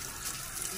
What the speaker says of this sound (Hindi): देचकी जो है ना वो मैं अच्छी तरह से धो लेती हूँ